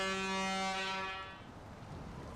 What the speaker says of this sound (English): That's a boat horn.